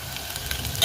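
Cumin seeds sizzle in a little hot oil in a pan, a soft, even hiss heard close up for under a second.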